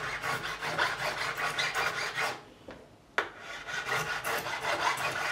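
A metal file rasps over the frets of a Fender American Standard Telecaster to remove burrs, a steady close stroking scrape that pauses briefly near the middle before resuming, with no talking.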